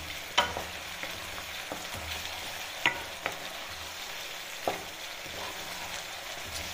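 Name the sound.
spice paste frying and being stirred in a pan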